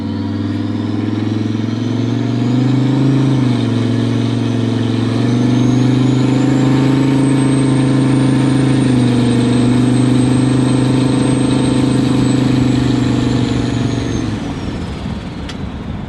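A V10 turbo engine runs loud and close, a steady deep drone with slight swells in pitch, holding for about fourteen seconds before easing down near the end.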